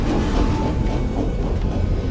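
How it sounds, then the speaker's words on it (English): A train rumbles past in the Night in the Woods video game, a steady low continuous roar of cars rolling by without a break. "Train coming!"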